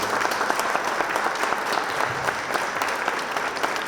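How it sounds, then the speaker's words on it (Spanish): A crowd claps continuously, a dense, steady patter of applause that holds at an even level throughout. "y un aplauso para Alex Escobar, por favor."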